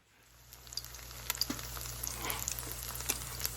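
Johnnycakes fry in a cast iron pan of hot baking grease, a close sizzle that builds from quiet to a steady crackle dotted with small pops.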